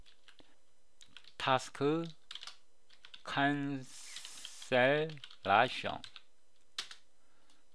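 A computer keyboard clicks softly as a folder is renamed, with light, scattered keystrokes heard between stretches of a man's speech.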